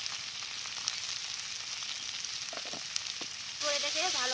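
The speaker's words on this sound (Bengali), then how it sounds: "দিয়ে দিলাম তেজপাতা দুটো, তারপর দিয়ে দিলাম পেঁয়াজ কুচি" Chopped onions and two bay leaves fry in mustard oil, giving a steady close sizzle with a few light clicks of stirring. The sizzle brightens near the end, where a faint tonal sound comes in.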